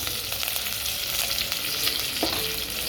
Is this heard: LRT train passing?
no